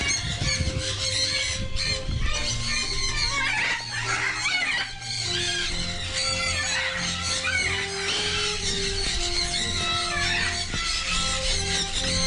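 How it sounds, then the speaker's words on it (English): A pair of medium sulphur-crested cockatoos squawk loudly and continuously at a pet farm, harsh close screeches layered over a busy backdrop of other birds calling. "This is a pair of medium sulfur crested cockatoos."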